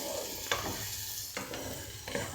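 Onions softening in a pan, a quiet close sizzle with a few sharp scraping stirs at intervals, no voices.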